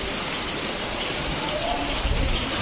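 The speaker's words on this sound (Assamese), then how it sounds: "একচুৱেলি বহুত বৰষুণ হৈ আছে" Heavy rain falls during Diwali celebrations, a constant hissing wash of drops striking surfaces that stays steady throughout, with a few slightly sharper splashes near the end.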